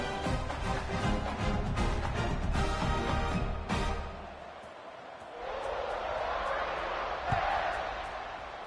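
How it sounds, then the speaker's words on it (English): A football stadium crowd roars with a dense, loud buzz after a score, dipping briefly midway before swelling again, with a sharp thump near the end. "this crowd is buzzing after that last score"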